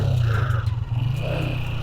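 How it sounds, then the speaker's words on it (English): A 1986 Honda CG125 motorcycle's single-cylinder engine runs with a steady low throbbing idle, rising briefly as the throttle is blipped, close up and loud with no voices. "Just needed a bit of a rev."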